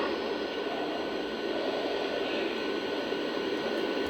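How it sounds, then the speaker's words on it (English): Four diesel locomotives idling together in a heavy lash-up, producing a dense, continuous roar that fills the air evenly and without a break. "4 locomotives behind me idling, making a ton of sound"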